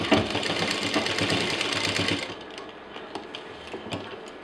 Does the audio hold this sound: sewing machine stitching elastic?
yes